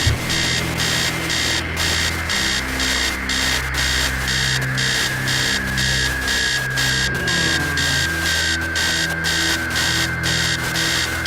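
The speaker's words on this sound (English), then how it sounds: "Upstairs, the sound of an alarm clock blaring." An alarm clock blares upstairs in the text-based video game The House Abandon, a loud continuous pulsing electronic beep over harsh static and low droning tones, unbroken throughout.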